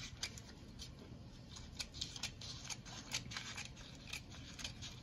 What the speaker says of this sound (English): we're gonna go ahead and cut a little paper right here. And it can be with scissors,